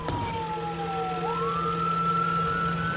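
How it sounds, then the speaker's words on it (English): Ambulance siren rushing a patient to the emergency room: a single loud electronic wail sweeping down and then back up, steady over an engine drone with no talk. "Dr. Holland and Janine race with her by ambulance to the ER."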